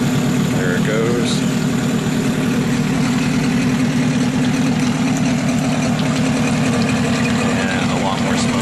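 A steady engine running at high idle, a loud continuous low rumble with an even throb and no breaks.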